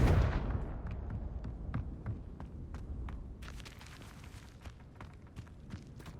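Confringo blasting spell going off in a haunted forest: a heavy booming blast at the start, then a loose string of sharp cracks and crackling impacts trailing away over several seconds.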